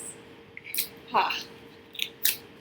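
Crinkling and tearing of plastic wrapping on a card deck package in a few short bursts, close up, with quiet pauses between the rustles.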